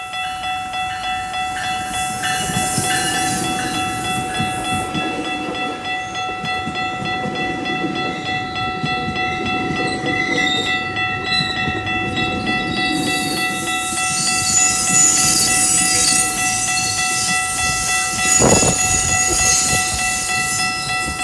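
GO Transit MP40 locomotive 618 rolls into Bradford GO Station with a loud, continuous rumble and steady whistle-like tones, a sharp burst near the end, and no voices.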